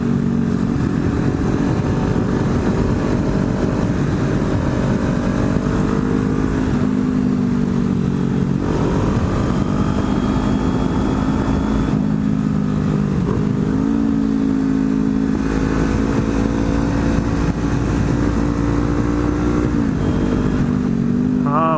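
Kawasaki ZX-10R and 400 Ninja motorcycles on a road ride, with a steady loud engine drone whose pitch rises and falls through throttle changes and gear shifts, under constant wind rush.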